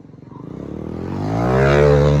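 Motocross motorcycle engine revving up from a pulsing idle to a loud, sustained high-pitched roar, close by and alone.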